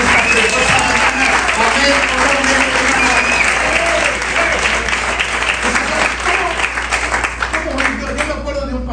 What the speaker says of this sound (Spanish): Alguien le da un aplauso fuerte al nombre del Señor en esta preciosa mañana.